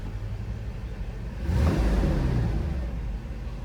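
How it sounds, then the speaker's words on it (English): A Mercedes R129 engine idles with a steady low rumble, rising slightly in level after about a second and a half and holding there, close and continuous with no voices. "That idle's working pretty good now."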